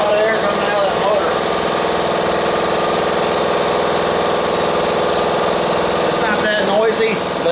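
An air compressor motor on a 30-gallon tank runs in a shop with a loud, steady mechanical drone, a faint voice audible beneath the noise.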